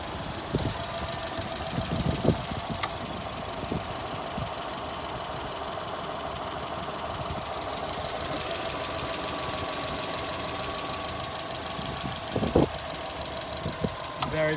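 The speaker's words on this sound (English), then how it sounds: "And that's the engine just ticking away there." A Subaru Forester S-Edition engine idles steadily under the open bonnet, a close, even ticking hum with faint clicks and no talk over it.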